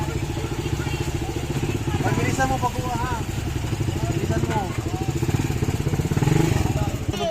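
A motorcycle engine runs close by, idling with a steady, rough mechanical putter beneath the whole stretch while people talk over it in the foreground.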